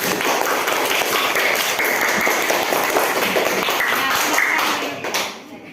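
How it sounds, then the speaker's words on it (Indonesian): Classroom of children clapping for a classmate, a lively burst of applause with distinct individual claps and taps that continues for about five seconds, then fades quickly into quiet. "Tepuk tangan untuk Mas Riani."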